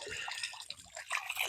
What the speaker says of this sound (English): the water is running back underneath and then just trickling down the side of the urn